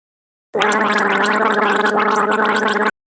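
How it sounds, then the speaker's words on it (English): A person gargles water in the throat, a steady continuous bubbling rattle lasting over two seconds, close and loud, with no talk. "gargle"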